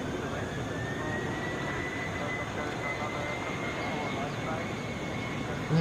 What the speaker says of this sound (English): Taking off 1771 to Toronto, Airbus A320.